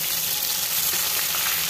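Pieces of catla fish frying in hot mustard oil in a kadai give a continuous loud hiss and crackle up close, alone with no voices.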